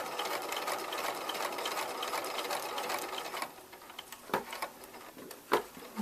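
A sewing machine runs steadily, stitching a straight seam 5/8 inch in without backstitching to make a gather. It hums for a few seconds, stops, and then a few sharp clicks and taps follow, close by.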